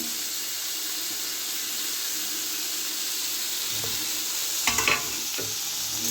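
Pumpkin leaf stems fry in hot oil with a steady, close sizzling hiss, broken near the end by a brief burst of utensil clatter against the pan.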